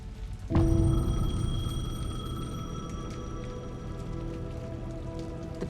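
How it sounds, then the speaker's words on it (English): A payphone rings steadily through rain in the video game Alan Wake 2, a sustained tonal ring laid over dense, continuous rainfall that swells in after a short opening. "The payphone was ringing."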